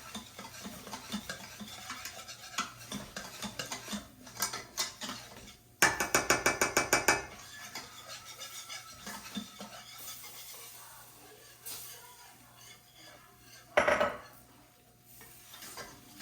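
A spoon stirs a birria enchilada mixture in a pot over oil, scraping and clattering in quiet bursts, with two louder rapid rattling runs of metal against metal and a light sizzle beneath.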